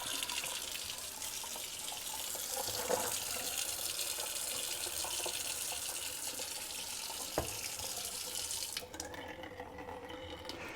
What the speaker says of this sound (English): my water gets hot in my sink.